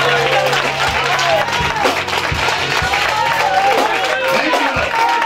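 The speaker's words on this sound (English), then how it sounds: "And give God a big hand" A church congregation claps and applauds for God in a loud, dense burst of hand claps, with crowd noise and voices mixed in throughout.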